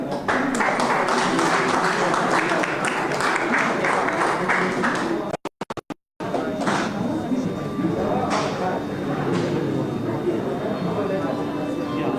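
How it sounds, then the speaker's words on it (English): An audience applauds at the Dubai Expo 2020 opening ceremony. Dense, loud clapping fills the first five seconds, then cuts off abruptly, and a voice follows over faint background noise. "a round of applause"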